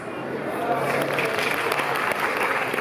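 Crowd clapping at a yosakoi dance festival in Japan, a dense continuous wash of hands with a murmuring crowd and voices underneath, close and steady for a few seconds.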